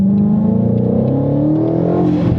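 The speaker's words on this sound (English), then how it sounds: "You start to roll into that, you can hear the boost start to build and the blow off valve and stuff." A 2019 Shelby GT350 800R twin-turbo car accelerating under load, engine note rising steadily as boost builds, loud and close from inside the car, with a brief whoosh near the end.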